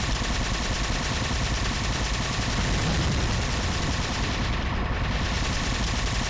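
Dense, continuous gunfire in the video game Halo Spartan Ops, a rapid unbroken stream of shots that stays loud and steady throughout with no pause.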